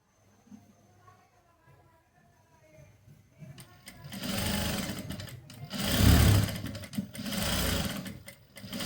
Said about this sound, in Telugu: అట్లా కాకుండా నీట్గా హెమ్మింగే చేసుకోవాలి